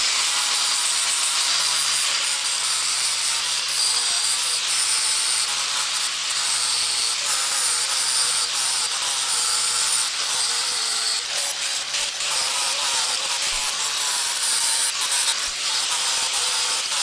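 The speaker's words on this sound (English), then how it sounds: "I'm going to take the flap disc and actually try to remove some of this nasty road rash." A flap disc on an angle grinder grinds road rash off the damaged metal of a wrecked Honda CBR600RR motorcycle. The abrasive roar is loud and continuous and holds steady the whole time.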